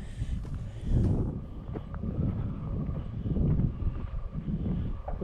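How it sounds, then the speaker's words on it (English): Wind buffets and rumbles in low gusts against the microphone in a vehicle stopped in traffic, rising and falling in a steady roar with no talking. "Really windy"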